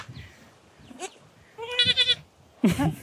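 Goats bleat on a small village farm in Zeytinli, Bayramiç, with a few close, loud bleats near the end above a faint, low background.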